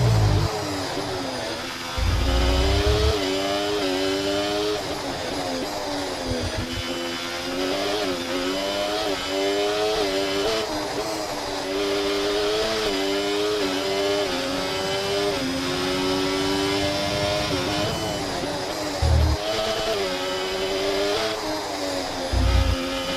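An F1 car in the F1 24 racing game screams around the track at high revs, a loud continuous engine note climbing and dropping through gear changes, with brief low thumps.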